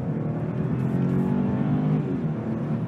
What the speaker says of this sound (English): There's a great amount of exhaust note coming.